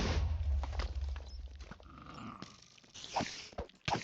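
A tamed wolf dog in the Minecraft video game growls a few times at close range, with some rustling in between, with no talk.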